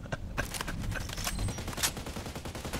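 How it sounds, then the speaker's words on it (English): Shotgun blasts ring out in a first-person shooter, a dense run of loud, sharp reports and clatter packed close together over a few seconds with no talk over them. "Shotgun."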